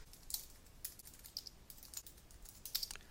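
Quiet, close keystrokes on a computer keyboard come in a light, uneven patter of clicks for a few seconds, with no talking.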